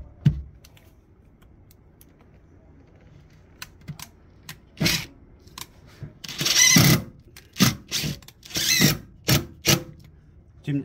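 Screws driven into dense birch plywood for a subwoofer speaker box in a Mercedes-Benz E200 W212, heard as short bursts of driver whirring and clicking that grow denser toward the end, close up with no talk.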